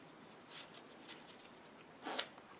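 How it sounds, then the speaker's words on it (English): A deck of playing cards is shuffled by hand in a few soft, close papery bursts, building to a brighter riffle near the end, with no talking. "I'll even shuffle it up a bit."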